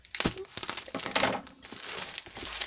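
Bubble wrap packaging being cut away during an unboxing, with close crinkling and rustling of plastic in uneven bursts plus a few sharp snips and tears.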